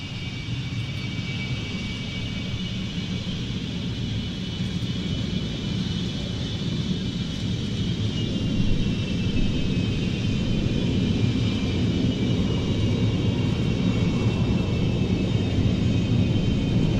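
Jet aircraft of the UAE Al Fursan display team run their engines at an air show, a loud, steady roar with a whining tone on top that holds and swells slightly throughout.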